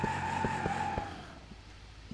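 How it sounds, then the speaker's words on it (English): A car doing a burnout in reverse in the BeamNG Drive video game, a droning tire squeal with rhythmic thumping pulses that fades gradually, no talking. "Never before have I really actually seen a car do a burnout in reverse."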